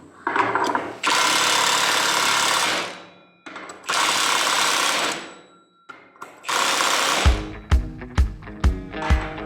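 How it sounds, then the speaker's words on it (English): A Milwaukee Fuel 3/4 inch drive cordless impact wrench runs a nut onto a trailer axle: long loud whirring bursts, then a final run of sharp rapid hammering impacts as the nut tightens, close up with no talk. "This is a Milwaukee Fuel 3/4 inch drive impact wrench."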